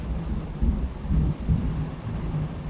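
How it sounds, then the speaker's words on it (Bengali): Thunder rumbling during a thunderstorm, with low, rolling swells that rise and fade in several waves, steady and fairly close, with no voices. "কি হারে বাজ পড়ছে শব্দ তোমরা শুনতে পারবে কেমন বাজ পড়ছে"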